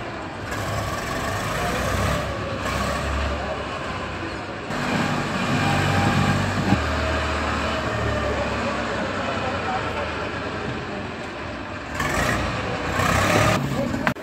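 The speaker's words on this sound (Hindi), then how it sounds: "अब ये ट्रैक्टर JCB वाली है जो मिट्टी" A JCB tractor works soil on a site, its engine a steady low rumble that swells and fades over the whole stretch, with heavy broadband noise and some talk mixed in.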